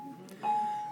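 A school bell rings in a classroom as a steady sustained electric tone that starts partway through and holds to the end, moderately loud over faint room noise.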